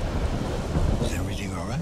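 Heavy rain and a deep thunder rumble in the video game Observer: System Redux, dense and loud throughout with a low roll dominating, plus faint wavering tones rising late.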